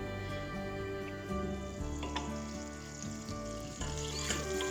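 Butter and olive oil sizzling in a pan as the butter begins to foam, a close, steady crackling fry with small pops and a faint hum underneath, and no talking.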